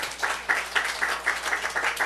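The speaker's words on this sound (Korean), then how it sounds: "우리 하나님 박수 올려드려요" Church congregation clapping at a Sunday service in Seoul, a steady rhythmic beat of hands about four per second, fairly close and moderate in level, with no talking over it.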